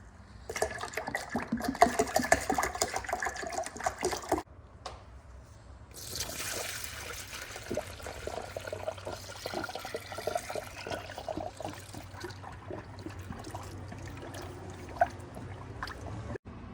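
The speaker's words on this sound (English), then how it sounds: "to fill the system with new fluid, I'll be using half of the OEM concentrated Toyota coolant" Coolant, a mix of Toyota concentrate and distilled water, pours and trickles steadily into a Toyota radiator with a gurgling, splashing quality, close by, with a few clanks and a short pause partway through.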